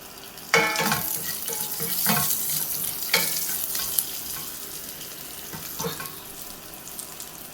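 Dried red chilies and curry leaves hit hot oil for a chicken curry, setting off an irregular crackling sizzle with a few sharp spits and pops. The sound is close and moderately loud, then settles into a softer fry.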